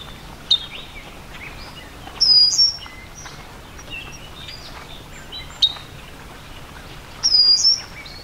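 Bird calls at Bald Eagle State Park in Pennsylvania: two sharp chirps and two longer, louder call bursts, spaced several seconds apart, standing out clearly over quiet outdoor ambience.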